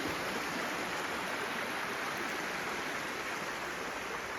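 Steady broadband rush of waterfalls pouring onto a giant rocky beach on the Bay of Fundy, Nova Scotia, a constant moderately faint wash with no voices.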